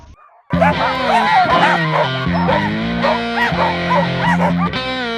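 Sled dogs at a mushing kennel barking, yipping and whimpering in a loud, continuous, excited chorus of overlapping voices, close by, after a brief quiet start.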